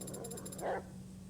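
A stray dog in a video game gives a single short snarl, close and fairly faint, over a low steady background hum.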